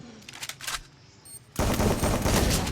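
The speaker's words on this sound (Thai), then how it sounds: "ปาดว่าไม่ปาดไม่ทันนะ เพราะว่าใช้เป็นลูกซองเจ็ดนัดครับ" Heavy shotgun fire in the video game Free Fire, using a seven-round shotgun, erupts suddenly after a quieter stretch with a few faint shots, becoming a loud, continuous barrage.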